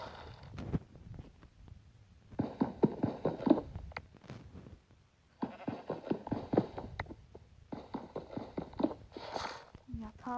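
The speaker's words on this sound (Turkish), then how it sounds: "Sonra da gittim bir sürü koyun buldum." Sheep bleat in a survival video game, short calls recurring through the clip amid game sounds and footsteps, with a person talking over much of it.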